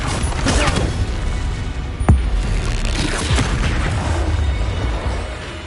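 The Confringo blasting spell explodes in the Hogwarts Legacy video game, giving heavy rumbling booms with one sharp blast near the middle. Dense crackling debris noise runs throughout, and no voices are heard.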